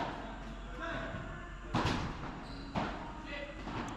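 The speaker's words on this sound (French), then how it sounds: "Ah, ça, c'est une bonne volée aussi." Padel balls struck in a P100 semi-final match, two sharp close hits about a second apart against a busy court background, with voices talking throughout.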